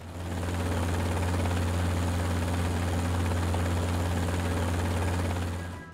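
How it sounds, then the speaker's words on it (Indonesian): An AH-64 Apache helicopter flies over a weapons test range in New Mexico, its steady rotor drone and engine whine rising in quickly, holding loud and constant, then cutting off at the end, with no talk. "AH-64 Apache di atas area uji peluru di New Mexico."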